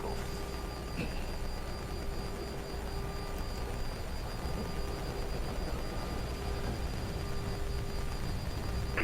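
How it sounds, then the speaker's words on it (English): Boeing 737 jet engines roar steadily from inside the cockpit during the takeoff roll on runway 36 at Tromsø, Norway. A constant broad rush carries faint steady whine tones, with no speech. "Takeoff."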